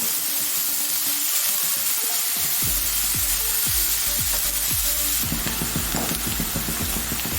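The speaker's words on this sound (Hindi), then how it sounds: "तेल में प्याज को अच्छी तरह गोल्डन कर लेंगे" Onions fry in hot oil until golden, giving a loud, steady sizzle. A spoon stirs them throughout, making a quick run of repeated scraping clicks.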